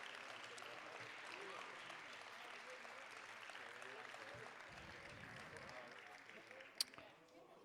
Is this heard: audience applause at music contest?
yes